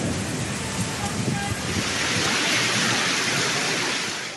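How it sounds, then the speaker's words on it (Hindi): Heavy rain and hail lash down during a sudden evening storm in Islamabad, a dense, steady roar of drops hitting surfaces with low rumbling underneath, loud and continuous throughout. "इस्लामाबाद में शदीद बारिश और ज़ालाबारी ने तबाही मचा दी।"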